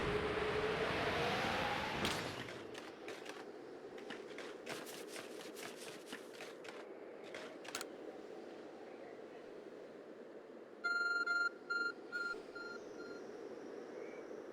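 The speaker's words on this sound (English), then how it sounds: "Your arc phone is beeping." A soft electronic beeping pattern from the Arc Phone in Pokémon Legends: Arceus chimes in a short repeating burst, following a whoosh and a string of light taps.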